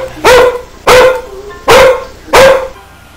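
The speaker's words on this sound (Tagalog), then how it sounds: "Sa bisa ng kahol ng kanyang aso" A dog barks four times in a steady rhythm, loud and close, each bark sharp with a short tonal tail, within a shadow-play telling of the Filipino epic Biag ni Lam-ang.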